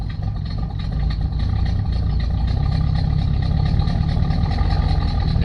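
Old hearse engine running at a steady loud idle with a deep low rumble, continuous and close, as it is put in gear.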